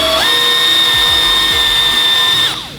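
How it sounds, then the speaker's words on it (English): A power buffer works heavy grit compound into a car body panel repair area, spinning up into a loud, steady high whine for about two seconds before winding down at the end. "we get out some heavy grit compound and go ahead and buff that repair area first"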